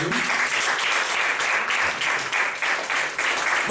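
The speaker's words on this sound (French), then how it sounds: "Vous allez acclamer le Seigneur pour sa vie." Congregation applauding steadily at a church service to acclaim the Lord, a dense, continuous wash of clapping with slight swells throughout, fairly close and loud.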